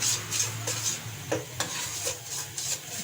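Spices for a potato samosa filling being stirred in a hot pan, with repeated scraping strokes over a soft sizzle, close and steady with no talking.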